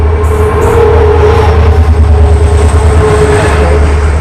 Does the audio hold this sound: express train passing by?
yes